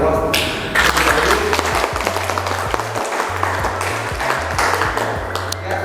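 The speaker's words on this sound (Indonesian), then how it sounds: "kita beri aplaus." An audience at a university teaching presentation applauds, with dense clapping that swells and then thins over several seconds, mixed with a few sharp pings and low hum.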